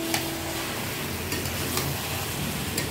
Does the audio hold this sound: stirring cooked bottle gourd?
yes